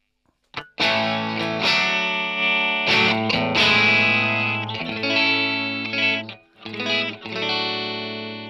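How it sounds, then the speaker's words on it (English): Heavily distorted electric guitar through a max-gain JCM 800 amp emulation in the AmpliTube app on iPad plays sustained, saturated chords up close, with brief gaps where the sound cuts out before ringing again. "So this is the JCM 800 emulation max gain."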